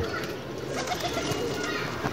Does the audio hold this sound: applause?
no